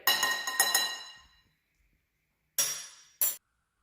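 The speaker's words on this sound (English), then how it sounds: "Get all the dry ingredients mixed together." Dry pancake ingredients get stirred in a bowl: a second of rapid clinking and scraping, a pause, then two short clattering taps, close and fairly quiet.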